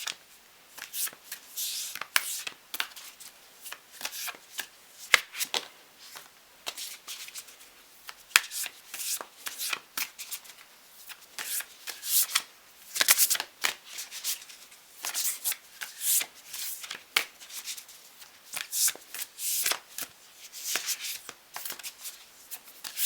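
Oracle cards being shuffled by hand during a twin flame reading, a steady run of crisp papery riffles and slides that continues without talk.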